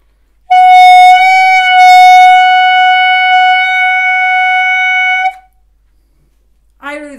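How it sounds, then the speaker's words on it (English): Clarinet played with a wrong, smiling embouchure, giving one long thin, bright sustained tone that lasts about five seconds, loud and close, before a voice starts talking at the end. "I'm going to show you what happens if you play like smiling"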